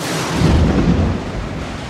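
Storm thunder gives a deep, rolling rumble that swells and then fades over a couple of seconds, heavy and low with no voices.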